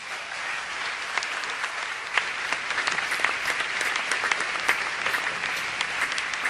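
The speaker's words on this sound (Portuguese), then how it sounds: "Uma salva de palmas para eles." Steady audience applause fills a live music show, dense clapping holding at an even loudness throughout with no voices on top.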